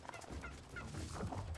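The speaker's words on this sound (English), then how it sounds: "The turkeys have the fear." Turkeys in a crafting-focused role-playing video game gobble in a rapid, warbling burst, loud and close, with no talking over them.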